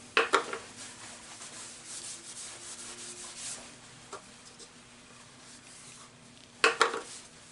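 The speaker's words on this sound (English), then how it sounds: "this stuff is a very fine abrasive cream. Again, you apply it over the whole piece." Fine abrasive cream being worked by hand over a piece of turned green wood on the lathe, faint soft rubbing and scuffing with a few brief louder scrapes near the start and end, under a low steady hum.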